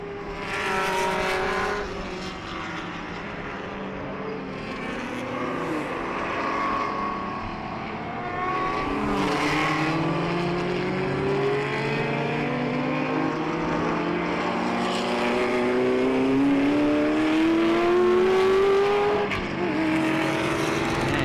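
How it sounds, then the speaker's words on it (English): Classic Porsche race cars battle at the Jarama circuit, their engines droning loudly and continuously with rising and falling pitch as the cars pass and change gear, and no one speaks. "See the Porsches fighting it out."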